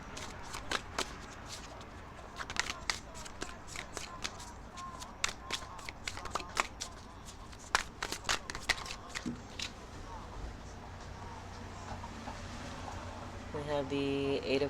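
A tarot card deck is shuffled in repeated crisp riffles and flutters of cards, close and fairly quiet, running steadily for several seconds before a brief burst of other handling noise at the end.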